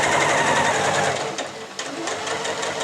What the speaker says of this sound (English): we're going to sew our darts down on our front skirt piece here